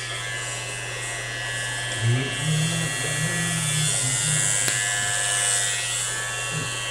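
Electric razor buzzing steadily while cutting hair after a bleach and dye job, a constant low hum throughout with brief fluctuations as it moves across the head, faint voices in the background.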